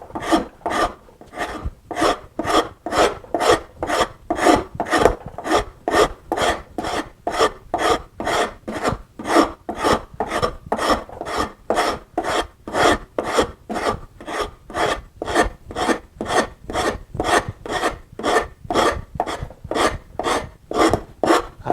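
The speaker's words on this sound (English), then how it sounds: "starting with my 6-grain Liogier rasp, I'm going to start rounding this over" A 6-grain Liogier wood rasp rounding over a wooden edge, giving a steady, close, rhythmic rasping of evenly spaced strokes, about two per second, alone without talk.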